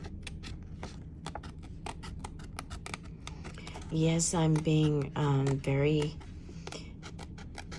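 Scissors snip through paper in a quick series of crisp cuts, with a person speaking briefly in the middle.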